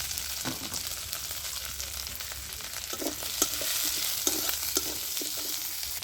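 Chopped onion, garlic, grated ginger and green chili fry in oil while being stirred, producing a continuous sizzle with scraping and stirring noises and no voices.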